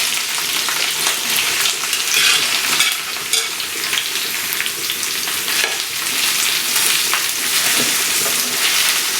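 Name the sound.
stirring bottle gourd pieces in hot oil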